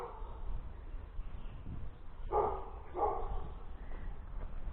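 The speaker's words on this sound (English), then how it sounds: "That's a dog that's woken up and fancies a walk." A dog barks twice in quick succession at a moderate distance, over a low outdoor background hum.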